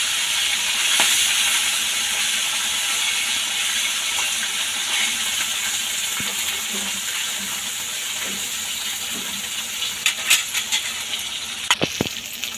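Tangra fish frying in hot mustard oil in a wok, a steady close hiss of sizzling oil with scattered sharp spatters and taps toward the end, no voices.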